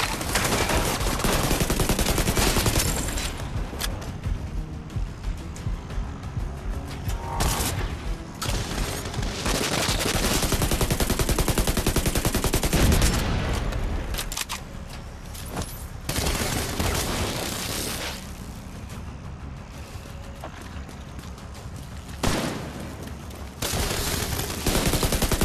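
A rogue assault turret in The Division 2: Warlords of New York fires long, loud automatic bursts, broken by brief pauses and scattered heavy blasts, sustained across the stretch.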